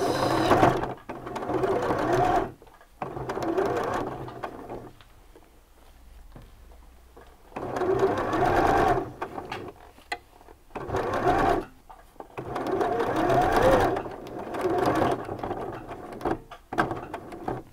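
A sewing machine topstitches around a shirt cuff joined to the sleeve, with a lengthened stitch, in repeated bursts of rapid, even whirring stitching separated by quiet pauses, close and moderately loud.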